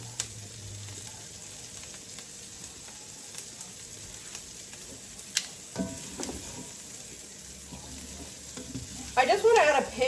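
Asparagus and andouille sausage sizzle in a skillet with a steady, soft frying hiss and a brief stir near the end.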